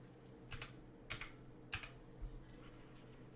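Quiet typing on a computer keyboard, a few short bursts of clustered keystrokes separated by pauses, close and faint, with no voice.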